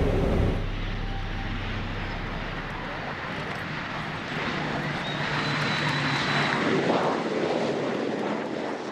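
An ATR 72-500 turboprop airliner passes over an airfield, its broad engine roar steady and loud throughout, swelling slightly toward the end with some wind buffeting, and no talk over it.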